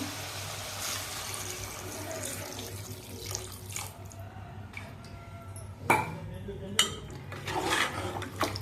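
Water runs and splashes steadily into a pot of chicken and drumstick curry, with a couple of louder pouring surges and faint clinks of utensils.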